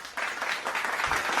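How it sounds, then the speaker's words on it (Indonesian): A fifth-grade class claps for the first student group after its presentation, a short burst of crowd clapping that starts abruptly and keeps up at moderate loudness, with a faint voice underneath near the end. "Yuk, semua kita berikan tepuk tangan untuk kelompok 1."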